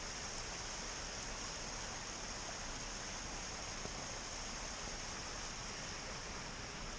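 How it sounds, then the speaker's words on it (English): A creek runs below a snowy mountain trail, producing a faint, steady wash of flowing water that stays constant throughout, heard from some distance with no voices. "There's a creek down there."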